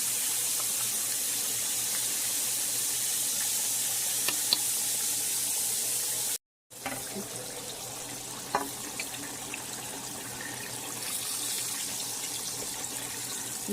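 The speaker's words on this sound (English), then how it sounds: "And I'm just letting those fry good, because they're going to be simmering in that gravy" Pork chops frying in a pan, a steady close sizzle with bubbling crackle that runs throughout, broken briefly by a short silent gap partway through.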